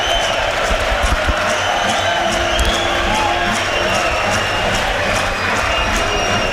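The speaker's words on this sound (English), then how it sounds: "Listen to the crowd." A football crowd at a York City v Carlisle United match fills the air with a loud, continuous roar of chanting and cheering, and a voice is heard faintly within the din.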